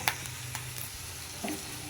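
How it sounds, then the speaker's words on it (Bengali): A green chili dropped into hot oil with cumin in an iron wok, giving a brief close hiss and sizzle with a few light crackles and stirring clicks. "আর একটা কাঁচা লঙ্কা ফোড়ন দেব"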